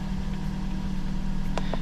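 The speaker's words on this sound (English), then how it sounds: "It's actually idling a lot better too." A 2011 Mazda CX-7 engine idles smoothly after a crank sensor repair, a steady low rumble with even vibration throughout and a couple of faint brief clicks near the end.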